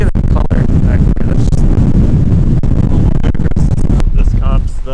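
Strong mountain-pass wind at Loveland Pass, Colorado, buffets the microphone in a constant loud roar, with sharp gusty thumps scattered throughout and faint voices underneath.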